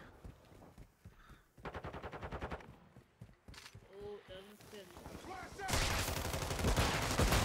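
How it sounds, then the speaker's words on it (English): Rapid bursts of automatic video game gunfire, with quick clusters of shots rattling out over a steady game soundscape, under a man's loud, excited talking and shouting. "Bro, I'm shooting every bullet in my fucking gun."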